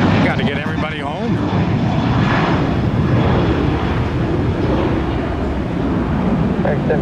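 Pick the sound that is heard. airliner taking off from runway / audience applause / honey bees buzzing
airliner taking off from runway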